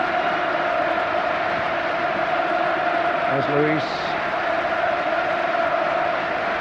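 Old Trafford's 40,000 football crowd keeps up a loud, unbroken roar, with a commentator's voice briefly cutting through the din midway.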